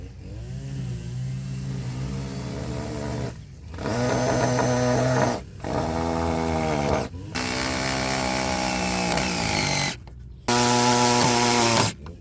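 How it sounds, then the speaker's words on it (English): A string trimmer runs outdoors on rural land in Tasman, New Zealand, its engine whining loudly in several revving bursts, with short gaps where it drops out, close by and without talk. "Got Damo down here doing the weed whacker"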